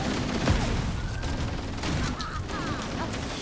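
A shotgun fires repeatedly in the Halo video game, with heavy blasts and mechanical clatter over a dense, noisy battle soundscape.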